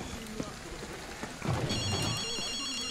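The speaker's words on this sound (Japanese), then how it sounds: "この電話が鳴っているみたいだ。" A telephone rings in the supernatural action game Ghostwire: Tokyo, a thin repeating electronic ring rising midway over rain-like ambience after brief talk, with a low thud underneath.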